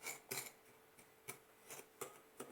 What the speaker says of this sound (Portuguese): É só colocar o fermento e fazer assim com a colher